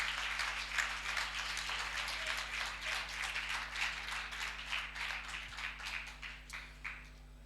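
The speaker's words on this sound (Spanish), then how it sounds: "ayúdame con eso y aplauda fuerte al Señor" Church audience applauding after the pastor's prompt: a moderate, even stream of clapping from many hands that thins toward the end into a few scattered claps, with a steady electrical hum beneath.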